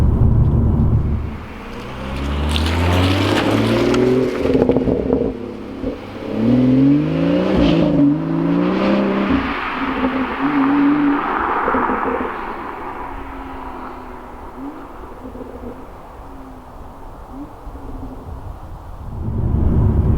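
Engine heard from inside a BMW M140i with an M Performance exhaust, revving up through several gears with rising pitch sweeps and a few sharp exhaust cracks, then settling into a steady cruising drone.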